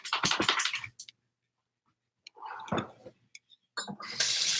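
Tap water running in bursts while ginger is rinsed at a kitchen sink, splashing loudly at the start and end with a quiet gap between.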